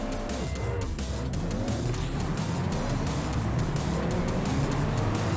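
A Fiat Punto race car in the video game Juiced holds a steady, continuous engine drone, with rising pitch sweeps as the gears change and faint tyre noise throughout.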